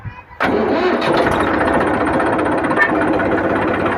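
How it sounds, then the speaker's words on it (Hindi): A Massey Ferguson 1035 DI Tonner tractor engine cranks briefly and then catches, settling into a loud, steady rumbling idle close by with a faint high whine above it. "तो हमने ट्रैक्टर को भी स्टार्ट कर लिया"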